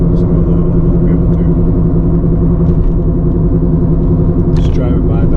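Steady low road rumble from a car driving along a highway, loud and continuous from inside the vehicle, with no clear speech.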